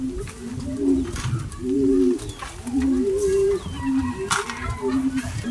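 Pet pigeons coo while being fed, low repeated rolling coos about once a second, close and fairly loud, over a light background of shuffling and clatter.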